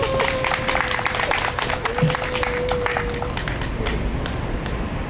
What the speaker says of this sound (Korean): 그럴 때 박수 한번 쳐주셔야 돼요.